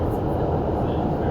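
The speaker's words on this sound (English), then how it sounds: "this is my first time seeing the front of the train going over the bridge" An REM light-rail train crosses the Champlain Bridge in Montreal, heard from the front cab as a steady, loud low rumble and roar of running gear, with no distinct clatter.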